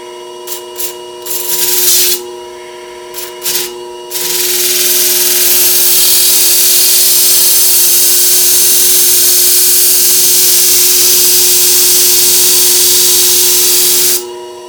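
A khukri knife blade being sharpened on a WorkSharp belt sharpener while sparking, heard as a loud continuous hiss and whine that runs for about ten seconds after several short grinding bursts.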